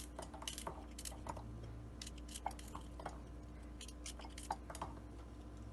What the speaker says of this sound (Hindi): इसमें लहसुन काट के डालेंगे ताकि ये जल्दी से पिस जाए।